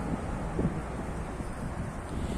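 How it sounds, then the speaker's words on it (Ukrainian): Steady wind roars and buffets the microphone in a continuous low rumble, with gusts swelling slightly; no voices. "Погляньте, як вітер зриває з дерев листочки."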